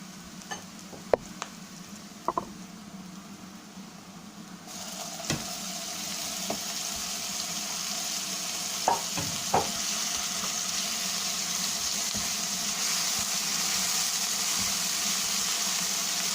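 Ginger garlic paste hits browned onions in a hot pan, sizzling into a loud, steady hiss that swells after a few seconds, with occasional sharp ticks of a utensil against the pan.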